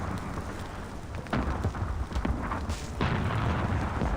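Bombardment in the video game Reverse: 1999: a steady, loud barrage of rumbling explosions and sharp impacts, with heavier booms surging in partway through and no voices over it.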